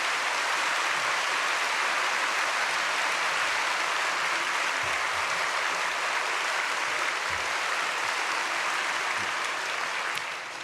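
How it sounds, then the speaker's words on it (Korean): A church congregation applauds to welcome a pastor at a Sunday worship service, a dense, sustained clapping from a large crowd that holds steady at full volume throughout. "목사님 박수로 환영하겠습니다."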